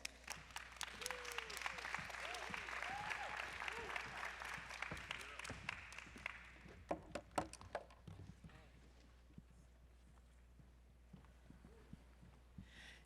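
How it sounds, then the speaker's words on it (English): Audience members at a conference session on private finance for adaptation applaud the incoming panel, the clapping moderately loud for about six seconds, then thinning into scattered claps and faint room noise. "An applause, please."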